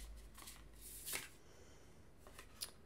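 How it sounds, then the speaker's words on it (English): Tarot cards are shuffled, producing quiet riffling bursts, a sharper flutter about a second in and another near the end, close but faint, with no voices. "one more shuffle"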